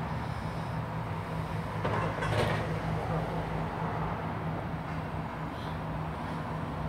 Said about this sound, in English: departing out now is the 1348 cross-country service towards Nottingham